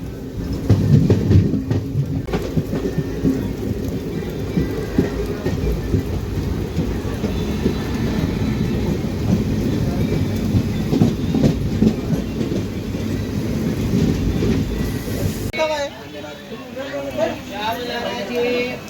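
The Nanded–Adilabad Intercity Express runs through a heavy rainstorm in Maharashtra, its continuous rolling rumble mixed with the loud roar of rain. The sound changes abruptly near the end, becoming thinner and more open.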